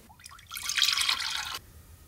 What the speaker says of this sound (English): there's small bubbles in there rising up to the surface, and that's the water cooking off